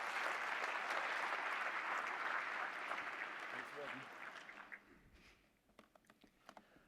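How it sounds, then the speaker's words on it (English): A conference audience at an official opening applauds the incoming panel moderator, a steady wash of many hands clapping that fades out after about five seconds, leaving a few scattered claps. "Let's have an applause for Steve, who will be moderating our panel discussion"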